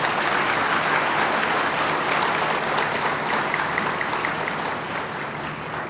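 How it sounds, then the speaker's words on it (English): Sustained audience applause following a speech at an English talk on Sanatana Dharma, a dense, steady clatter of many hands from a large crowd, loud and continuous, easing only slightly toward the end. "A huge round of applause for what he's just done."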